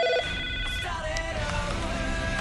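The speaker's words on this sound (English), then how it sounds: "Didn't you hear the ringing?" A telephone rings with a bright electronic trill, loud and close, repeating its tone through a busy, noisy background.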